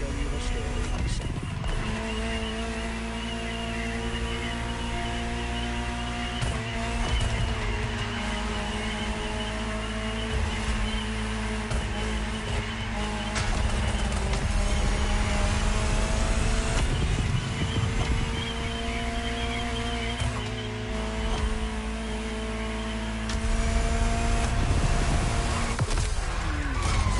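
A Ferrari supercar driving in The Crew Motorfest on PS5, with a continuous engine roar rising and falling through gear changes alongside tire squeal and game music, holding loud throughout.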